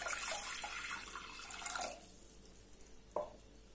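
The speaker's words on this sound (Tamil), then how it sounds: "இப்போ நான் இதல ஒரு 1/2 லிட்டர் அளவுக்கு தண்ணி ஊத்திக்கிறேன்." About half a litre of water poured into a pressure cooker in a home kitchen: a steady, quiet splashing stream that stops partway, followed by a single drip or splash, with no voices.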